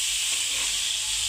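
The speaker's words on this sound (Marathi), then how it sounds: "मिरच्या चांगल्या तळून घ्यायच्या" Green chilies frying in hot oil, a dense, steady sizzling hiss, close and fairly loud, with no break through the short stretch.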